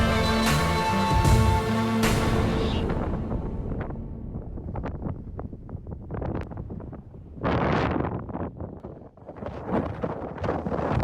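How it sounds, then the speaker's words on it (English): Strong gusting wind blows across the North Rim canyon ridge at Buck Farm Viewpoint in the Grand Canyon, roaring loudly against the microphone in surges with brief lulls between gusts. "75-mile-an-hour winds off the ridge"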